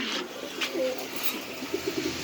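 Pigeons coo softly in a loft where birds are being handed over in pairs, including a German Beauty breed, with several low, rounded coos clustering near the end over quiet background hiss.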